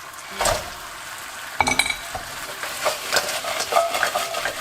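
Pork pieces tipped into sweet and sour sauce in a wok and stirred, a soft sizzle under clattering spatula strikes and scrapes against the metal, close and uneven.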